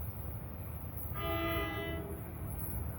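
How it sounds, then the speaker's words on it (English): A commuter train running Suffolk to Hoboken approaches Clifton station with its horn sounding, one steady harmonic blast of about a second over a constant low rumble of the moving train, fairly distant and with no talking. "Approaching now at 3:29 is train 1120,"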